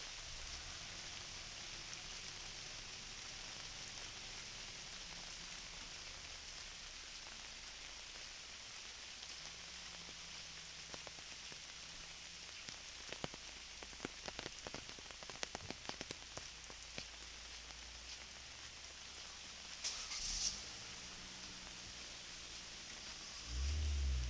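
Heavy rain pours steadily in the Napoklu area of Kodagu, Karnataka, a soft even hiss held low and distant throughout, with a few faint crackling bursts near the middle.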